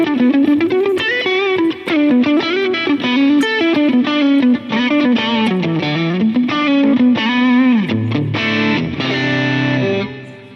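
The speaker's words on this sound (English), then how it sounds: "we're starting to get a little bit of crunchiness in there" Electric guitar played through a Ruby UAFX pedal emulating a Vox AC30 amp, with crunchy overdrive edging toward distortion; a loud melodic line of picked notes and bends, ending on sustained chords.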